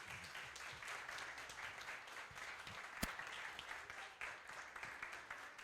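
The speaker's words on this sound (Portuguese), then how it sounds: "Salve de palmas aí para a cartilha do grande companheiro Abdias." Audience applause at a booklet launch event: a room of people clapping steadily, fairly faint and distant, with one sharp knock partway through.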